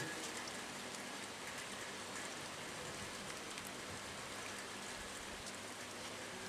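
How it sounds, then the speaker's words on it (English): Steady rain falls on the Camino pilgrim trail near Morgade, a continuous dense hiss of drops on surfaces, even and unbroken throughout, with no voices. "Yes, it's a beautiful rainy day here on the Camino."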